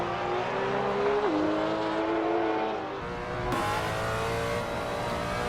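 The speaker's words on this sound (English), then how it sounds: "Engine note screaming race car all the time." Engine of a 2018 Brabham BT62 race car in a VR racing game, revving loud and screaming at high pitch, dipping and climbing through gear changes without pause.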